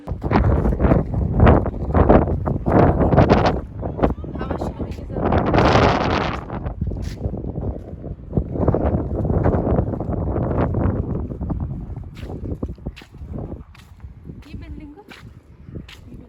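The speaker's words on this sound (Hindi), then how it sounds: "विंड बहुत ज़्यादा तेज़ थी, बहुत ज़्यादा। तो आप इसको फील कर सकते हो इस साउंड से।" Strong wind gusting and buffeting the microphone during a snowfall in Kashmir, loud and roaring throughout with rising and falling bursts.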